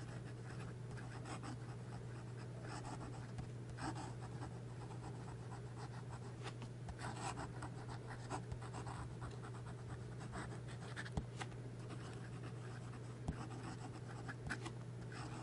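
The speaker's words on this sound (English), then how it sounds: "And some fast writing." A fountain pen nib scratches quickly across paper in fast writing, a close, continuous papery rustle of strokes with small ticks, over a low steady hum.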